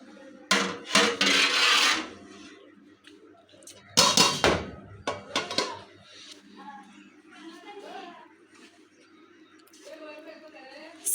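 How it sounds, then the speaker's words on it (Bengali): A knife chops lemon and cucumber for a salad, making intermittent cutting taps and scrapes in bursts while a person talks nearby. "সালাদ আমি কাটতাছি"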